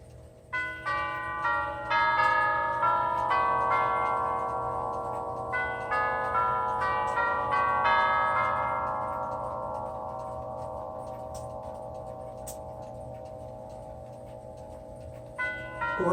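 A Herschede tubular bell clock plays the Whittington chime, sounding sixteen clear metallic notes in two groups of eight with long overlapping resonance that slowly decays, while a steady clock tick runs underneath.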